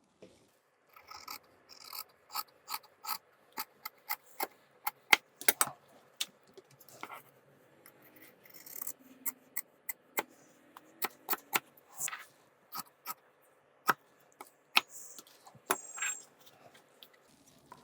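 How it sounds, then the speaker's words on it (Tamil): Scissors cutting the sleeve of a school uniform shirt on a tailoring table, with crisp close snips in quick irregular bursts and soft fabric rubbing between cuts. "இப்போ கை கட் பண்ணிடலாம்."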